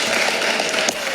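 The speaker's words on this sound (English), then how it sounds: "You guys can keep applauding." An audience applauding in a continuous, dense patter of many hands clapping, steady and fairly close, lasting only a moment.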